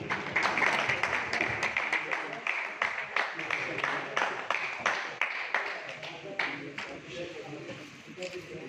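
An audience at an honoring ceremony for families of fallen soldiers applauds an engineer with a steady patter of many overlapping claps, moderately distant, with voices mixed in.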